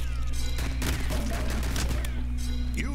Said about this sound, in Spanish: Una habilidad desbloqueada, Revolver Shot, bueno, disparos básicos.